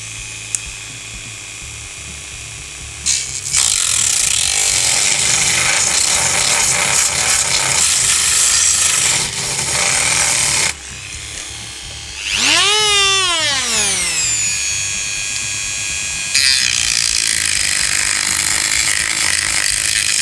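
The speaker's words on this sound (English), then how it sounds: "we've only got metal cutters and not wood cutters, but it'll still cut" A metal cutting tool bites into wooden parts for a scratch-built dwarf airship model, producing a loud, rasping whine in long bursts broken by short pauses and a brief sweeping squeal partway through.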